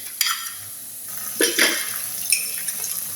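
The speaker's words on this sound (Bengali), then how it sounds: "এখন শুটকিটা দিয়ে দেব।" Flattened dried fish, chapa shutki, drops into a hot frying pan with a few scraping, clattering stirs over a steady close sizzle, in short bursts against continuous frying hiss.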